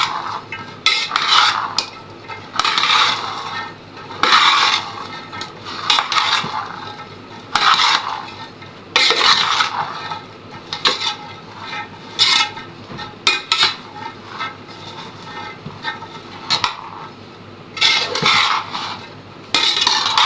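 A chickpea chana chaat mixture being stirred in a pot, a metal spoon scraping and clanking in repeated bursts with short pauses between strokes, close and fairly loud, with no talking.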